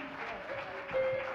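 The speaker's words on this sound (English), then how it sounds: "let's continue to give God a clap of praise" Church congregation in Warner Temple, Wilmington, NC, clapping in praise during a service; short, soft burst of hand claps with a sustained organ-like tone running beneath.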